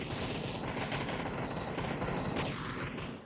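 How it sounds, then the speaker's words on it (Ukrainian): Dense, continuous gunfire in PUBG during a clan battle, rapid overlapping shots forming an unbroken loud barrage with no pauses and no talk. "Йому у спину стріляють, а він не здається."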